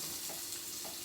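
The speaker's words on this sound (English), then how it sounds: "Oh yeah. Sizzle, sizzle." Brief steady sizzle of shrimp frying in hot grapeseed oil, a crackling hiss close up with no talking.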